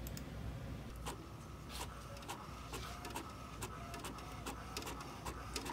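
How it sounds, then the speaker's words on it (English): An HP inkjet printer with refilled integrated cartridges printing a page: quiet, steady mechanical whir with rapid regular clicks and ticks from the carriage, close and alone with no talking. "Let's try to print."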